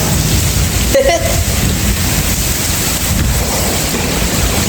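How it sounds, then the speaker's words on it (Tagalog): Heavy rain pours down hard during a storm with hail in the UAE, a loud constant roar of drops with a brief sharp knock and a short voice heard over it. "Grabe ang lakas ng ulan."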